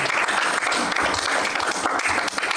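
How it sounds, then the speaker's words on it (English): Audience applause at a candidates' political forum, a short burst of dense clapping that fills the whole moment, fairly loud and close. "I take it you're applauding her,"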